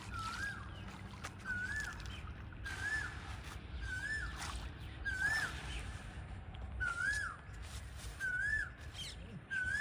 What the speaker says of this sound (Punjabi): ਬੋਲਦੀ ਕੋਇਲ